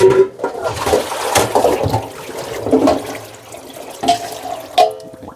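Water pours and splashes into a pot while preparing grapefruit syrup, a gurgling, uneven stream in the kitchen with brief louder bursts and no talking.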